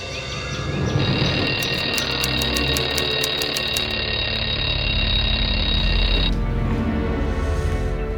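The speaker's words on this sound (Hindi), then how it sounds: "अलार्म भी मुझे ही बंद करना पड़ता है" An alarm clock rings loudly and steadily for several seconds in a bedroom setting, its bright electronic tone holding continuously before cutting off near the end.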